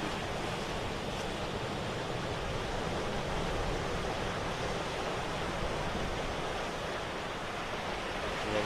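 Steady ocean surf washes continuously over a landscape scene, a dense and even roar of breaking waves with no pauses or voices.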